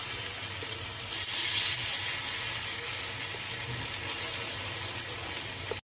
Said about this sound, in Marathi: आता आपण याच्यामध्ये थोडंसं तेल टाकून घेऊया